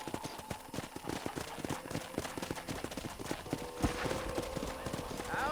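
Horse hooves clip-clopping in a steady trotting rhythm at a corral in the video game Red Dead Redemption, with a whinny mixed in over a busy background, close and fairly loud.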